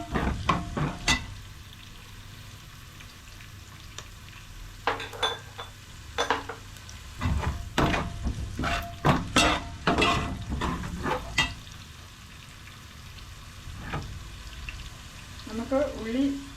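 Green chilies frying in a pan for tomato rice, with a low steady sizzle under repeated sharp clinks and scrapes of a spoon against the pan, plus a brief voice near the end.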